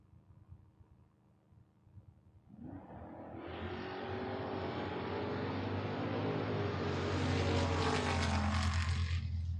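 At a Door Wars drag race, a Dodge Dakota pickup and a Mustang launch after a quiet rumble, and their engines swell into a loud, sustained roar that keeps building as they run down the strip.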